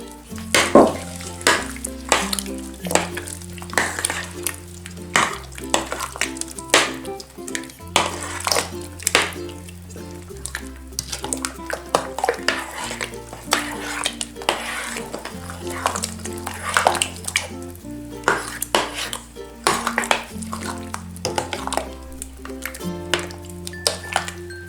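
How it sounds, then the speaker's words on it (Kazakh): A salad of vegetables, sunflower oil and hot peppers is stirred in a pot, giving steady wet scraping and sloshing over more than twenty seconds, with a soft sizzling texture and a steady tonal hum beneath. "Құйып болғаннан кейін жақсылап тұрып араластырамыз."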